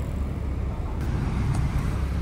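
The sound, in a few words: cars passing on the road in Japan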